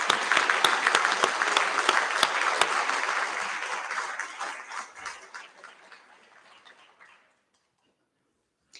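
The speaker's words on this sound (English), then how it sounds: "Let's give them a round of applause." Applause at a school prize-giving assembly, a room full of hands clapping briskly and loudly at first, thinning out and fading to silence after about seven seconds.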